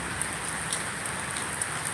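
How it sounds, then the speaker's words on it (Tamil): Monsoon rain falls steadily at night, a dense, even patter of drops striking nearby surfaces with no voices over it. "மழை விடாமல் பெஞ்சிட்டு இருக்குது"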